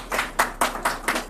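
Several people clap in a loose, uneven rhythm, six distinct bursts of hand claps close by with no talking over them.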